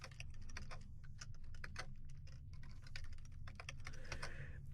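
Steady computer keyboard typing with dense, irregular key clicks over a constant low hum, close and moderately loud, while code for an Azure Storage Tables entity is entered.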